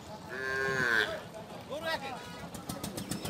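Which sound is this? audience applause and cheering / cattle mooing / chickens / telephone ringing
cattle mooing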